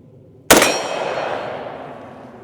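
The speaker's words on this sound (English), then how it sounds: "We're going to hit our steel targets downrange." A single rifle shot strikes a steel target downrange with a sharp metallic clang, leaving a long ringing tail that slowly fades over about two seconds.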